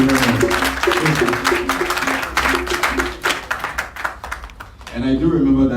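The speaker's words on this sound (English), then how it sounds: "I think we should be a little generous with the applause." Dense clapping from an audience at a launch event in Accra, Ghana fills the clip and fades toward the end, with a voice speaking over it throughout.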